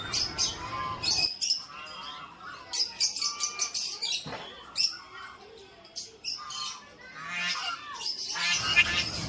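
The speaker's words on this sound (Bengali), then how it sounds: "এইখানে দেখো বিভিন্ন রকমের বদ্রি পাখি রয়েছে। তারপরে একটা সাইডে দেখলাম টিয়া পাখিও রয়েছে।" Budgerigars and parrots chirp and squawk in a busy, overlapping chorus at the Naihati Boro Ma temple, with bright, close calls that continue almost without pause, broken by a few brief gaps.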